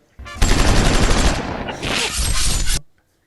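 A short airstrike sound effect: a loud, close burst of dense rapid gunfire and explosive rumble lasts about two and a half seconds, then cuts off abruptly.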